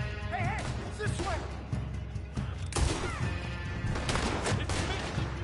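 Gunfire rings out in Red Dead Redemption 2 as game shots crack amid a busy, loud mix, with a player talking over the action.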